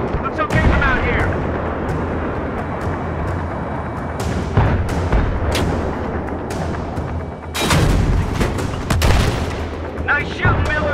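Heavy tank cannon blasts in Battlefield 3 as T-72 tanks are hit and destroyed: several loud, sharp booming shots ring out amid constant rumbling battle noise, with radio voices talking underneath.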